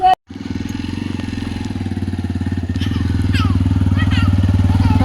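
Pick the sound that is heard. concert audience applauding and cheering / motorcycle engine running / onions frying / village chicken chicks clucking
motorcycle engine running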